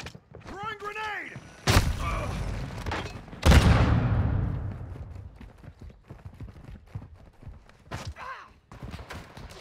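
In a Call of Duty: Modern Warfare II multiplayer match, a grenade goes off with a loud, booming blast that rolls away over a few seconds, amid other heavy impacts, gunfire and shouted voices.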